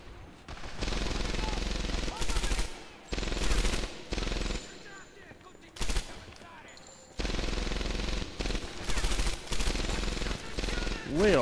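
Gunfire in Medal of Honor Airborne during Operation Husky: several loud, sustained automatic bursts separated by short pauses, close and dominant, with quieter gaps between volleys.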